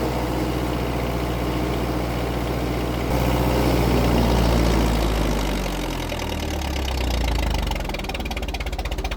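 A wood chipper engine rumbles near a dump truck box on an off-grid farm in British Columbia, a loud, steady, knocking engine drone with a swell in load partway through.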